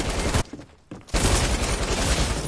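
Gunfire in the video game Fortnite: a dense, loud volley of shots with a brief pause near the start, then sustained rapid fire filling the rest.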